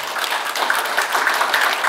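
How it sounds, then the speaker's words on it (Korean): An audience at a policy forum on fire-system design and supervision contracting applauds the opening speaker with steady, dense clapping that holds at an even level throughout. "큰 박수로 맞이해 주시기 바랍니다"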